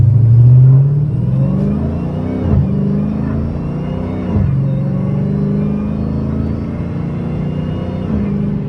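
Dodge Hellcat engine rumbling steadily while driving on night streets, a loud continuous low drone with a brief rev swell near the start and small surges midway.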